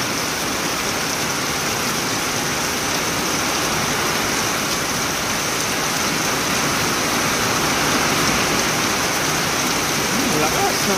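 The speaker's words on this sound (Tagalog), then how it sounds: "Lakas ng ulan." Heavy rain pours down in a steady, loud, broadband wash with no pauses, close and constant throughout.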